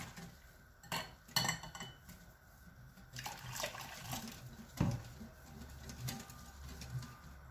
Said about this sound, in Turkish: Şimdi suyumuzu yavaş yavaş unumuza ilave ediyoruz.